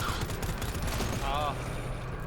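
Rapid automatic fire from a turret in the video game GTFO rattles on continuously, mixed with dense game noise and a short voice under the shooting.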